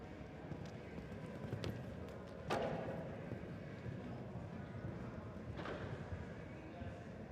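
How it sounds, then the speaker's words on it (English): A horse gallops around an indoor show jumping arena at a World Cup speed competition, with muffled, rhythmic hoofbeats and a thud or two under crowd noise and arena ambience. "This is one fast horse, huh?"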